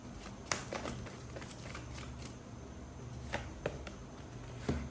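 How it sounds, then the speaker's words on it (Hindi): A deck of cards is shuffled for a reading, giving a soft, continuous papery rustle with a few sharper snaps and clicks scattered through it, close by and with no one talking. "I have to shuffle more"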